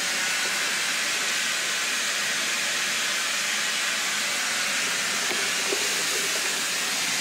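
A steady, loud broadband hiss fills the whole stretch without pause, like a pot boiling hard or steam escaping, with no talking.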